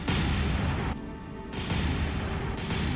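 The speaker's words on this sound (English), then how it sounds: "So they're just shooting wildly." Naval guns fire in a War on the Sea battle in the Pacific, a dense, loud rumble of blasts and booms that drops away briefly and then surges back, with no voices over it.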